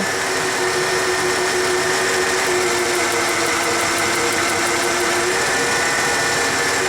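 A 1994 Ford F150 engine idles with a partial misfire during a cylinder drop test, a loud, steady, close mechanical drone with a constant hum and no speech over it.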